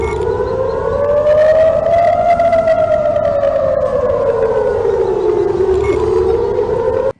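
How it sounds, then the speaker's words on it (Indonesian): An air raid siren wails over Tel Aviv. The tone is loud and continuous and rises and falls slowly for several seconds before cutting off abruptly. "Insiden ini terjadi hanya beberapa menit setelah sirine berbunyi di Tel Aviv."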